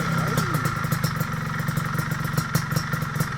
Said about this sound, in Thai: เดี๋ยวฟังเสียงเครื่องกันนะครับ